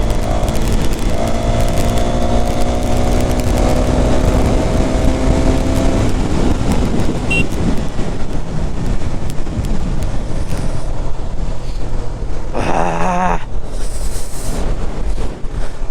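A KTM Duke 390 motorcycle ridden on the road, its engine droning steadily throughout amid heavy wind rush, with some rising tonal revs early on.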